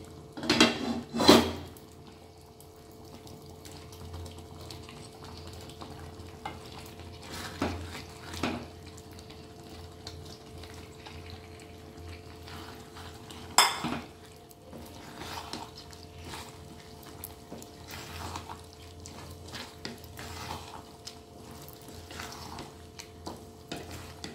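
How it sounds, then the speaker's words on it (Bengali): Boiled pasta tipped into a pan of creamy, cheesy white sauce and stirred, with a couple of sharp utensil knocks against the pan early on, then soft, continuous scraping and wet stirring sounds at close range. "এর মধ্যে আমি বয়েল করা পাস্তাটা দিয়ে দিচ্ছি"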